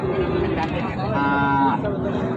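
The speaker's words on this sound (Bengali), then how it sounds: "প্রচুর পরিমাণে খামার উপযোগী শুকনো গরুগুলো আমদানি আছে" At a livestock market selling Sahiwal and Gir bulls for farm fattening, a short bovine call rises over a busy background of crowd murmur.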